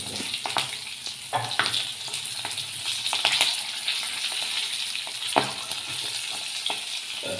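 Stuffed green chillies fry over low heat in a pan with mustard seeds and asafoetida, giving a continuous close sizzle with scattered pops and small clatters.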